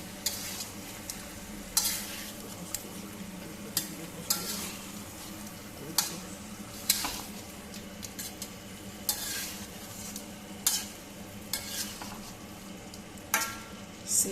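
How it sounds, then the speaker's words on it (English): Prawns frying in a Bengali-style masala curry with potato and pointed gourd are stirred gently, giving a steady sizzle under repeated soft scrapes and clinks of a utensil against the pan. "So now I'm going to stir this very gently so that nothing breaks off."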